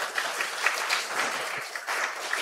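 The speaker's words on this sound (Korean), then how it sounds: "여러분, 이럴 때 박수 한번 주세요." Church congregation applauding at a Sunday afternoon worship service, a dense wash of many hands clapping steadily for a couple of seconds with no voices over it.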